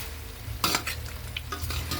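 Chicken pieces with skin stir-fried in a pan for a Bengali chicken dish, giving steady close sizzling with a few scraping stirs of a spatula, and no one speaking.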